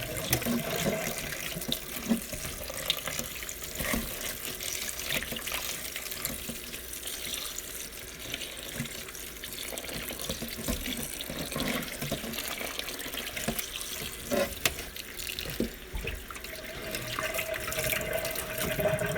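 Tap water runs steadily into a kitchen sink while homemade butter is rinsed and kneaded under it, a continuous splashing flow with small bumps of handling and no voices.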